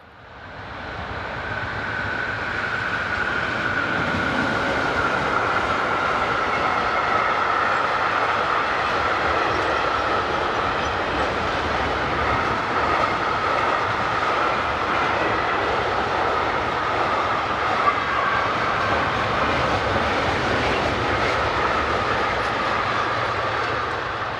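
Locomotive 155015 hauls a southbound freight train on a German main line in early morning, a loud, steady rolling rumble of wagons and engine that holds evenly for the whole stretch, with no voices.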